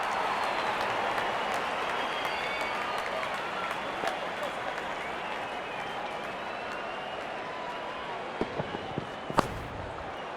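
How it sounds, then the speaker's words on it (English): Steady crowd applause and cheering in the cricket video game RC24 during a Nepal versus England ODI, a continuous wash of clapping with a few sharper knocks near the end. "Goes to a splendid 50, good innings and gets a grand applause."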